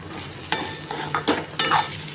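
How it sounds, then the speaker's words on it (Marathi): Sabudana usal with crushed peanuts and salt being stirred in a pan, a soft steady sizzle broken by a few sharp scrapes of a spoon against the pan, close and without talking. "आता परतून घेऊयात छान"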